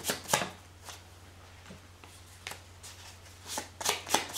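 Oracle cards being shuffled and cut by hand, a series of crisp papery riffles and taps at close range over a steady low hum, with bursts at the start and a busier cluster near the end.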